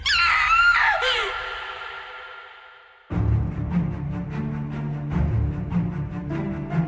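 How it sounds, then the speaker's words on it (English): A sharp, high, wavering scream in an audio drama, loud and close for about a second, then it trails off into silence before dramatic music swells in. "Scream?"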